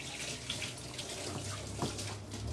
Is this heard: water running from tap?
yes